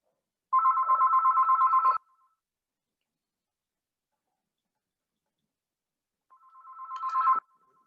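A telephone rings twice, each a rapid trilling bell burst lasting over a second, separated by several seconds of silence, the second ring swelling in loudness before it cuts off.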